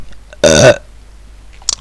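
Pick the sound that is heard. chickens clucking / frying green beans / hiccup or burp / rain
hiccup or burp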